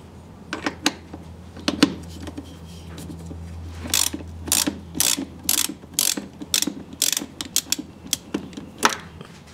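A ratchet with a 10 mm socket loosens a car battery terminal on a Porsche 911 or Cayman, giving bursts of quick sharp clicking in short irregular strokes, close and clear with light background hum.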